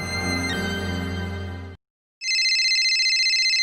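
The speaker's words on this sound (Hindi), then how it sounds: "देखो फोन किसका है" A phone rings with a bright electronic tone, cuts off into a short silence, then a second higher, shriller ringtone starts up.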